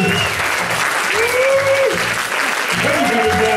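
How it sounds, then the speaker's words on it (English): Applause from judges and audience for dancing ladies at a tavern hypnosis show, a steady wash of clapping with music tones and voices running underneath. "Give them some applause, judges."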